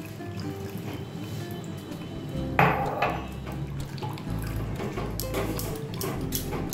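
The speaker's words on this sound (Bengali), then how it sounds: "ছানাটাকে একটু ধুয়ে নেব।" Tap water runs over chhana (fresh cottage cheese) in a sink as it is rinsed for sandesh sweets, a steady close splashing stream with a brief louder knock or clatter of a dish partway through.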